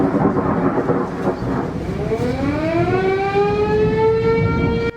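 A civil defense warning siren rises and holds its wail over the rumble of a supercell thunderstorm rolling in over a golf course near Melbourne, loud and steady beneath heavy storm noise.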